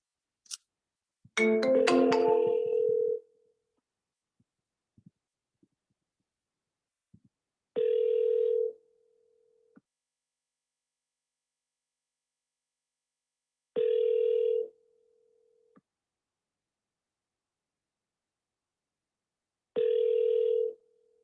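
Outgoing telephone call ringback tone: after a brief burst of dialing chirps, four steady buzzing rings repeat at roughly six-second intervals with silence between them, clear and close.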